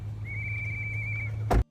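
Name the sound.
protesters blowing whistles at Minneapolis raid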